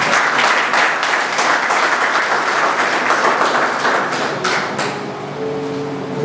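A church congregation applauds loudly and continuously for about six seconds, the dense clapping thinning slightly toward the end.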